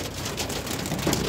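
Hail hammers down in a thunderstorm at Pulford Court, Chester, a dense loud clatter of pellets on surfaces that swells slightly toward the end, with no one speaking.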